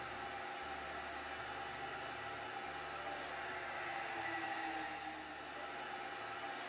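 Steady whirring drone of a heated carpet cleaning machine's vacuum motors running continuously, a constant hum with a faint pulsing low tone, no voices.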